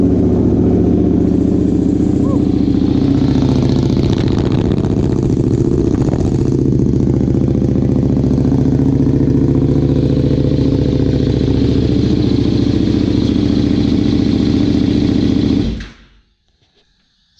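Acura Integra engine idling close by, a loud steady rumble with light mechanical clatter running for about sixteen seconds before abruptly cutting off into silence.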